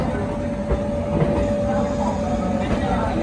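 The Gurumukhi Superfast Express, train 12326 from Nangal Dam to Kolkata, hauled by a WAP 7 locomotive, rumbles steadily from on board with faint wheel clatter. A voice talks over the running noise.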